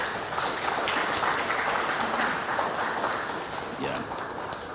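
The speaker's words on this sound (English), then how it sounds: "can we give them a round of applause?" Audience at a youth economy project launch applauds its mentors, a steady wash of many clapping hands at moderate distance that holds evenly and tapers slightly toward the end.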